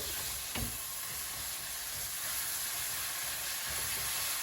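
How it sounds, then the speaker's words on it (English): An egg and pasta mixture sizzles steadily in a pan while being flipped and mushed, a constant close frying hiss with one soft knock near the start and no talking. "Then what you want to do is just flip it around and mush it up."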